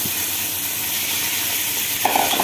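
Rice poured into a pot of browned vermicelli for Egyptian koshari gives a steady, close sizzle and hiss, with a brighter crackle near the end.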